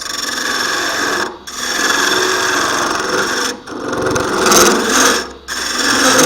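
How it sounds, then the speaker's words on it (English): A wide steel hand scraper used without a handle works across wood in steady rasping strokes, three short pauses breaking the close, continuous scraping. "Scraper."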